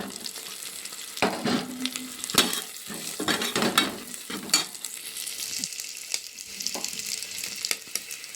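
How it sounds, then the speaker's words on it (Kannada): Grated coconut goes into onions frying in a pan and is stirred through, giving a continuous sizzle with repeated irregular scraping and clinking of the spoon against the pan, close by and without talk. "ಅದಾದಮೇಲೆ ಇವಾಗ ತುರಿಸಿಟ್ಕೊಂಡಂಥ ಕೊಬ್ಬರಿ ಹಾಕ್ಕೊತಾ ಇದ್ದೀನಿ."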